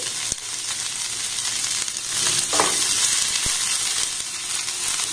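Chopped onion and green chili frying in a pan, with a continuous hissing sizzle, a few sharp clicks of a utensil and a brief burst of louder stirring partway through.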